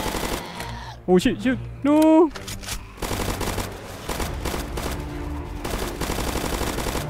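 Gunfire from shooting zombies in the Roblox game Zombie Uprising, with dense bursts of game sound, and a man exclaiming in alarm over the shots.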